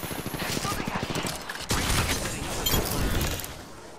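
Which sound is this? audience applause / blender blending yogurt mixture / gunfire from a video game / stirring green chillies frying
gunfire from a video game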